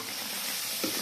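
Duck meat frying in a pan at home, a steady close sizzle with a brief louder burst of spattering near the end.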